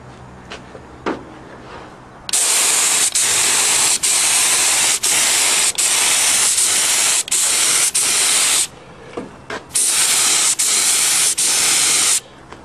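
Small go-kart parts such as air scoops and a shifter rod are spray painted on a painting stand: loud bursts of aerosol hiss, several long sprays cut by short pauses and clicks, close up.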